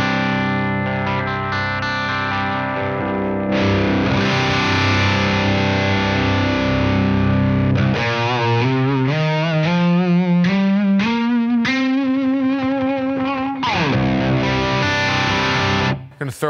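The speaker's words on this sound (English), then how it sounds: "you're getting a super thick crunch out of the amp" Electric guitar through compressor and drive pedals into an amp set for thick crunch, loud and close: sustained distorted chords, then a rising run of bent notes before a final ringing chord, with no talking.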